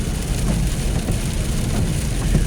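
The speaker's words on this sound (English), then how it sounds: "I can't remember when it has rained this hard before" Heavy rain pours down steadily during a drive in East Tennessee, a dense continuous hiss and drumming on the car with low rumble underneath, loud and unbroken with no voices.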